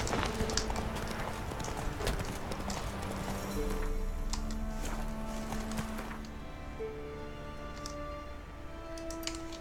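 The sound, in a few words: Roach the horse's hooves galloping in The Witcher 3 video game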